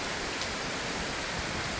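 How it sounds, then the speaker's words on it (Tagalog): Heavy rain pours down continuously after a night of rainfall, a steady dense hiss of water on surfaces close by, with no voices. "Grabe ang ulan."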